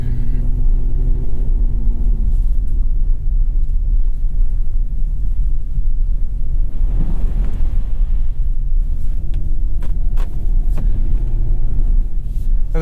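A 2021 Chevy Colorado ZR2 pickup drives off-road in rear-wheel drive, its engine a steady low rumble with tire and wind noise, briefly surging louder midway.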